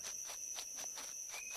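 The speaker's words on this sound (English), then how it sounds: "you got crickets" Crickets chirp in a steady, rhythmic pulse against a thin, constant high tone in the night ambience of the Empyrion Galactic Survival video game. The chirps are clear, even and unbroken, with no talk.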